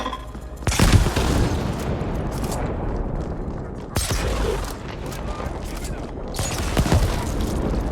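Video game gunfire in a first-person shooter, a powerful single-shot weapon firing a few loud booming blasts with dense rumbling battle noise between them.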